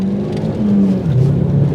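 A 2003 Ford Focus ST hot hatch engine pulls hard under acceleration, a loud, steady drone that rises in pitch through the rev range and then dips slightly, heard from inside the car with no talking.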